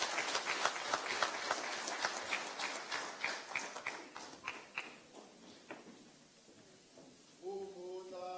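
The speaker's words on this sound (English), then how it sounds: "It must be a huge round of applause" Crowd applause at a public hearing in Limpopo Province, South Africa, with dense clapping that gradually thins and fades, followed by a brief voice at the end.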